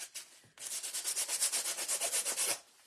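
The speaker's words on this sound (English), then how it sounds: "I wanted to hit it with the sandpaper really quick" A craft tag is rubbed with sandpaper in quick, close strokes: one short scrape, then a rapid even run of about fifteen back-and-forth rasps lasting two seconds.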